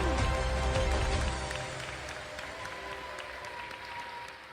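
Audience at the Fox Theatre in Atlanta applauding and cheering at a school music concert, dense clapping that starts loud and slowly thins out.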